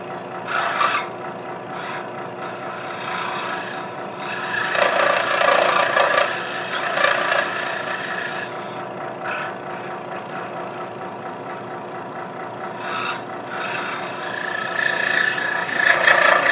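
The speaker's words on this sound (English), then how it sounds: "So I'm very slowly going back and forth to make a relief cut here" A scroll saw cuts slow back-and-forth relief cuts into a wooden workpiece for a mortise, giving a continuous motor drone with a raspy, rubbing blade texture that swells and eases as the cut progresses.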